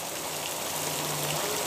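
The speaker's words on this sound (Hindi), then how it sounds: "जोरदार गांव में बारिश हो रही है। तेज़ बारिश का नज़ारा आप देख सकते हैं।" Heavy torrential rain pours down on a village near Merta in Rajasthan. It makes a dense, continuous hiss and patter, loud and steady throughout, with a faint low hum underneath.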